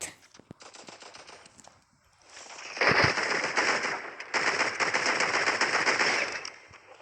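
Automatic gunfire in a video game: a quieter stretch of shots, then two long, loud bursts of rapid fire with a short gap between them.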